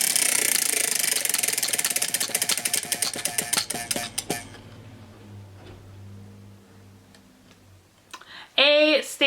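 A TBR book-choosing wheel spins with rapid loud ticking that slows and spaces out until it stops, followed by a short burst of other sound at the end.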